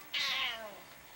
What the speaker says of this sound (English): Kitty, say meow, say hi